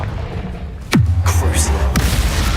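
A Confringo blasting spell in Hogwarts Legacy makes a loud, close boom with a falling magical whoosh that trails into a low rumble, followed by another shimmering spell burst.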